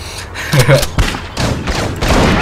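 Gunfire in the video game Bad Boys 2, heard as several loud, sharp bursts of shots mixed with thuds and booms, with a voice speaking over the action.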